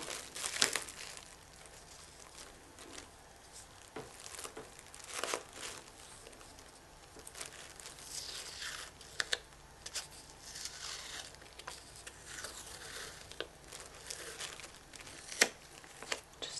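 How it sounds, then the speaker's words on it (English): Adhesive tape is torn and pressed down over bubble wrap around a jacket in a quiet ASMR packing session, giving soft crinkling, a few tearing rips and light pats, close and faint with no voice. "we'll want to secure this side with a little piece of tape as well"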